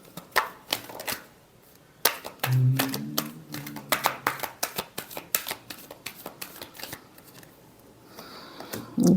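Tarot cards being shuffled by hand, a run of crisp riffling snaps and taps in uneven quick bursts, close and clear, with a brief low voice sound partway through.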